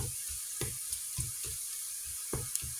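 Tomato paste frying in a pan of chickpeas, with a steady sizzle and a run of soft, rhythmic stirring scrapes at close range, quiet overall and with no voices.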